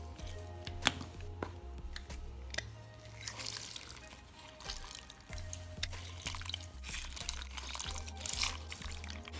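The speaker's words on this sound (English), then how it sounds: "Just start squeezing those into your garlic mix." Lemon halves squeezed by hand into a garlic mixture for a Tuscan kale salad, giving wet squelching and juice dribbling into a bowl, with scattered taps and clicks at close range.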